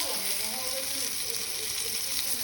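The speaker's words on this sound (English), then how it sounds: "And stir that up with the fat. Basically, this is making an in-pan roux." Flour being stirred into hot pheasant fat to make a roux in a pan, giving a steady, close, dense sizzle and crackle that continues without a break.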